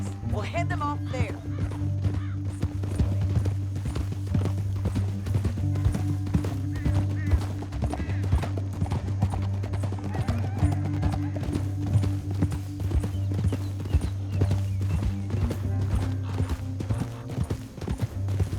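Horse hooves gallop steadily in Red Dead Redemption 2, a continuous close clip-clop over a low, droning musical score, with occasional snorts and no talk.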